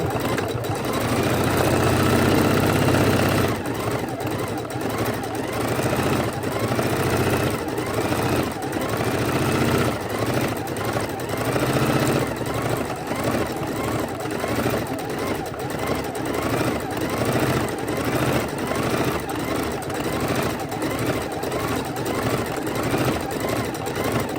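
A sewing machine runs raw-edge appliqué stitching in long, continuous, loud bursts, its rapid needle rhythm steady and close, with a voice talking over it.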